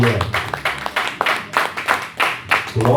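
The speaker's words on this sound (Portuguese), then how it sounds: "desocupa tuas mãos e louva o Senhor com as palmas" A church congregation claps in praise, a run of sharp, irregular handclaps, fairly close, with voices mixed in beneath.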